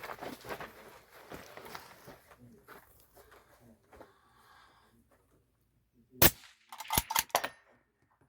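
Rifle shots at an NRL Hunter-style shooting competition, with two sharp cracks and a quick cluster of bangs near the end as steel targets are hit, preceded by quiet talk and shuffling.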